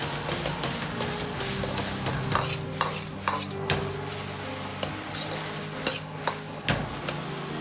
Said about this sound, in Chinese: 继续翻炒均匀，化开调料